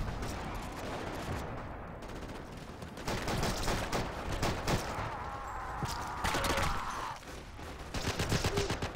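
Machine gun fire in Forgotten Hope 2 multiplayer on Pointe du Hoc, dense rattling bursts and scattered gunshots at mixed distances filling the battlefield, fairly faint overall with a brief voice.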